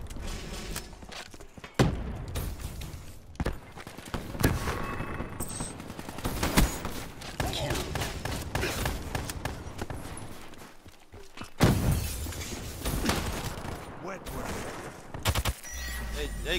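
Loud, dense gunfire in a video game, a shooter setting where an opponent holds a shotgun: repeated sharp blasts and bursts throughout with mechanical clatter and footsteps, speech over it.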